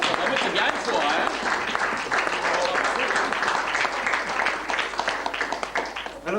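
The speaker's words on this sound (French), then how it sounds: "qu'on peut les applaudir tous les deux" Audience applause at a live stage show in Ligugé, steady dense clapping from a crowd filling the whole stretch, with some voices mixed in underneath.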